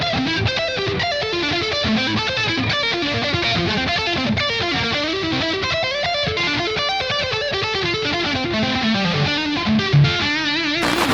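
A distorted electric guitar plays a lick at full speed, a dense, rapid stream of picked notes in repeating patterns, loud and continuous with no voices.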